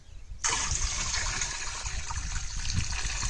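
Water poured off boiled potatoes, starting abruptly as a steady rushing gush that continues loud and unbroken to the end, with no speech.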